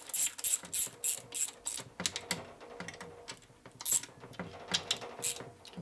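A torque wrench tightens the cylinder head studs on a rebuilt 1947 Harley-Davidson EL Knucklehead 74ci engine in a pattern, making bursts of sharp metallic clicks and ratcheting, close and fairly quiet, with no talking.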